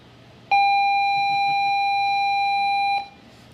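A steady electronic bell tone rings continuously for about two and a half seconds, clear and fairly loud, then stops abruptly.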